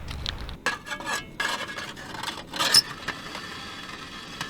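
Chili with beans being heated in a pot on a camping stove: a metal spoon scrapes and clinks against the pot in short bursts, with soft stirring and a faint sizzle between the knocks, close by.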